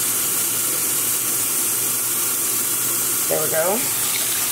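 Hot water pours steadily from a tap into a sink, a constant loud hiss and splash throughout, with someone speaking briefly over it near the end.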